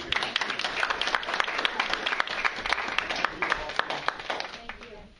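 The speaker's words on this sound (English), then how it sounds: "let me give you a round of applause" Audience applause at a county board meeting, a steady patter of many hands clapping at moderate distance for about five seconds, with a voice or two mixed in before it tapers off at the end.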